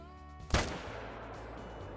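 A single hunting rifle shot cracks out at a warthog in the hunting game Call of the Wild, a sharp loud report followed by a fading rumble over quiet background ambience.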